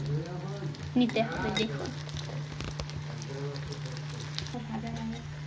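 Small capsicum pakoras deep frying in hot oil give a steady, close sizzle and crackle that runs throughout, with a person talking over it.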